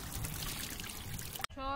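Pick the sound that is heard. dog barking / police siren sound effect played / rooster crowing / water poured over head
water poured over head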